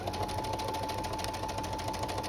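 A sewing machine stitches seam binding into a casing for a neck stay, running in a steady, continuous close-up whir with a rapid even needle rhythm.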